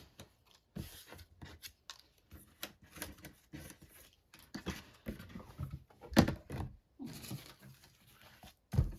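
Scissors snipping through a small scrap of paper for a handmade floral card, a series of short crisp cuts with brief pauses and occasional soft taps on a desk, close and fairly quiet.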